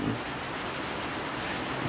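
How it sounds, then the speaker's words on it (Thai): Steady rain falling all day at a campsite on a hillside tent route near Pak Chong during a tropical storm, a dense continuous hiss with no voices. "แต่วันที่เรามาก็ ฝนปล่อยทั้งวัน"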